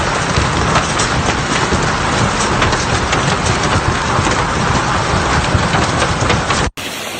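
Steady heavy rain falls as a dark storm passes over Marrakesh, Morocco, a loud, dense hiss that runs continuously and cuts off abruptly near the end.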